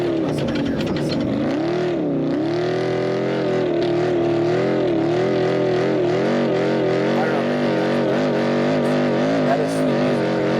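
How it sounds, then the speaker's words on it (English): A V8 race vehicle's engine revs hard in a steady, continuous roar at the Baja 500 off-road race, holding high RPM with small rises and dips over about ten seconds, loud and close throughout. "That V8 is going."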